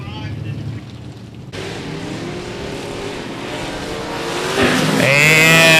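Race cars on the oval at 105 Speedway roar past as the green flag drops: engine noise swells sharply partway through, building into a loud rising whine of several cars accelerating, with an announcer talking over it.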